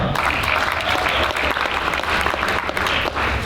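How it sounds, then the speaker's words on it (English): Loud, sustained applause from a crowd, dense clapping filling the whole stretch without pause. "A round of applause for Doug."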